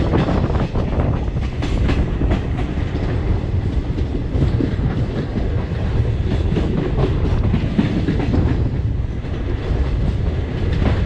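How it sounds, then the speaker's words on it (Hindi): Karnataka Express train running along a single-line ghat section, a steady loud rumble with rhythmic clickety-clack of wheels over rail joints throughout, heard from inside the moving train. "वो हमारी ट्रेन पूरी मुड़ती चली जा रही है, मतलब खुले मैदान में, घाट सेक्शन में।"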